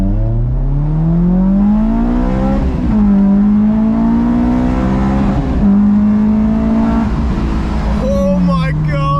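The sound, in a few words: modded car accelerating hard, first pull with VTEC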